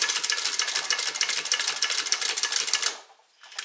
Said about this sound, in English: So I'm going to top stitch these ends together.